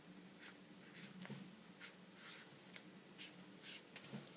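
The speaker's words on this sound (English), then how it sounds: "I'm going to grab the black texture. And I'm going to write" Soft, quiet scratchy strokes of black texture paint being written onto a surface, coming in short repeated bursts about every half second against a faint background.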